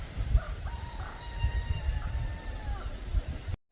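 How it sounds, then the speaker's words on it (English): Wild turkeys in a farm side field, faint calls and soft gobbling heard at a distance over low outdoor background noise. "Turkeys in the side field."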